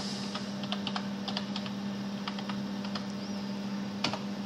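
A password is typed on a computer keyboard with scattered, light key taps in small bursts over a steady low hum.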